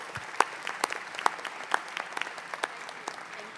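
An audience applauds union panelists, including AFSCME Secretary-Treasurer Elissa McBride, at a 'Never Quit' panel, with moderate clapping and a few sharper, closer claps standing out over the steady patter.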